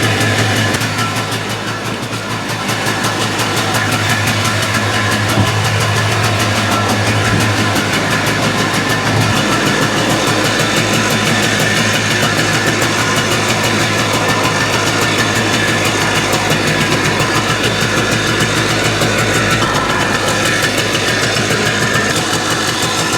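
A smoking three-wheeler engine idles high and steady, a loud continuous mechanical drone held close for the whole stretch with no talk.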